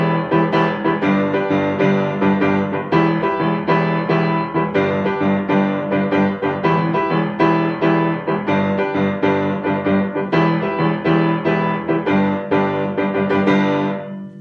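Piano plays a song's bridge with left-hand octaves placed offbeat against the right hand, giving a busy, continuous chordal texture that runs unbroken for the whole stretch, close and fairly loud with no speech.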